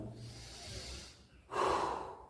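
Slow, deliberate breathing during a posture exercise: a soft, long inhale followed by a louder, forceful exhale through the nose or mouth, heard close up with no talking.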